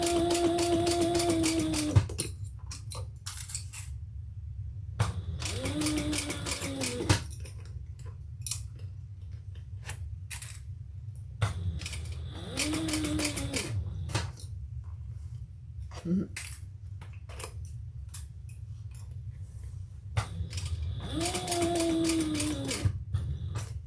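A sewing machine stitches a crossbody handbag in short repeated bursts of fast mechanical whirring and ticking, close by, with quiet pauses between runs and a faint rising and falling whine.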